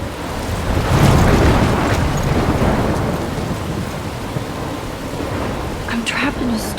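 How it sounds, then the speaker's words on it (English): Storm in the video game Life is Strange: a loud, steady roar of wind and crashing waves, swelling early and easing slightly, with no talk. "I'm trapped in a storm?"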